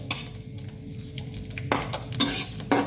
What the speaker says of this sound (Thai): เราจะผัดพริกกระเทียมก่อน ผัดพริกกระเทียมให้เขามีกลิ่นหอม